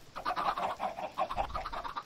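Minecraft chickens cluck in a quick, steady series of short calls, moderately loud and close, with no voices.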